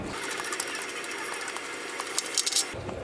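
A bolt being removed from the timing gear on a 2007 Chevrolet Avalanche with a 5.3 LS engine: a steady, fast mechanical whir like a power ratchet or impact driver running continuously, with light metallic clicks and rattles near the end.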